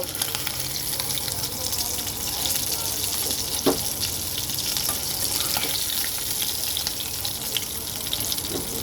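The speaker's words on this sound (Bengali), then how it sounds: "মাছগুলো আগে ভেজে তুলি" Tengra fish fry in hot oil, giving a steady dense sizzle that holds constant throughout, close and fairly loud, with faint scraping and clinks of a utensil now and then.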